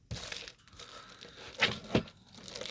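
Sealed plastic wrapping on a boxed Panasonic M40 full-size VHS camera being crinkled and torn open, with close rustling and two louder ripping crunches before more crackling, with no talk.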